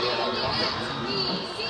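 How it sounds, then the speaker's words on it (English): A football stadium crowd roars steadily for a long run by the ball carrier in a BC Football game against Santa Monica College, a dense, continuous wash of cheering with a voice faintly under it. "Isaiah Martin, listen to the crowd."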